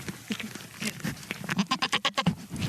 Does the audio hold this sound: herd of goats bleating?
yes